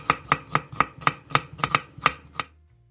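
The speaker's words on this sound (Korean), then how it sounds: "애호박 1개, 당근 3분의 1개, 양파 1개는 얇게 채 썰어주세요" A knife cuts zucchini, carrot and onion into thin julienne strips on a board, giving about ten crisp, evenly spaced chops close by before falling silent.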